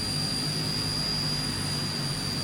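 Steady, unbroken drone of a Transall C-160 turboprop engine running at idle after a cold start in Microsoft Flight Simulator, with a high whine over a low rumble and no voices.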